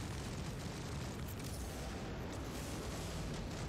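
Missile launches and explosions in a space combat video game, heard as a continuous, distant, low roaring rumble with no distinct separate blasts and no talk.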